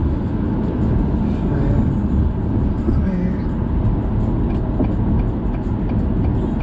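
Cabin of a 2021 Acura TLX accelerating in sport mode, a steady broadband rumble of engine and road noise, loud and constant throughout with no talk over it.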